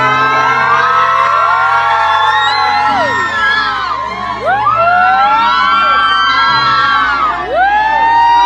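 Emergency sirens wail loudly and continuously, several rising and falling tones overlapping over a low steady rumble.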